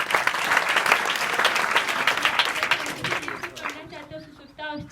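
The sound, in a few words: audience applauding a student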